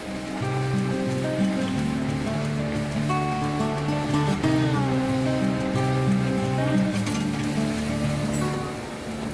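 Bedmi puris deep-frying in hot oil over a high flame, Mathura halwai style: a steady, close sizzle and hiss runs throughout beneath loud melodic background music.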